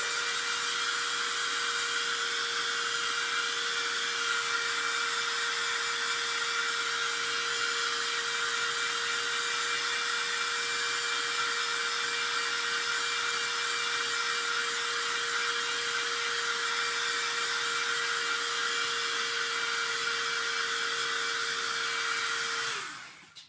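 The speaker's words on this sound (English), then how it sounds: "I might hit it with a real dryer." A handheld hair dryer blows in one steady, loud whoosh with a faint whine for over twenty seconds, drying a craft project, then cuts off at the end; no one speaks.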